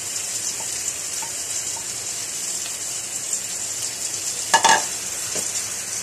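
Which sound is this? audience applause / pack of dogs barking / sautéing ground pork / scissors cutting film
sautéing ground pork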